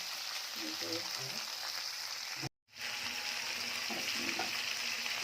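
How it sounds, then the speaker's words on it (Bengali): Freshly ground spices, crushed on a grinding stone, sauté for a winter tengra fish curry. They give off a steady, bright sizzle close by that cuts out for a moment and then resumes just as strongly. "এই যে শিল পাটায় সব টাটকা মশলা বেটে নিয়েছি, নিয়ে এখন কষাচ্ছি।"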